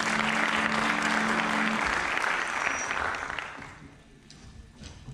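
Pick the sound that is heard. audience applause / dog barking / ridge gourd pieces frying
audience applause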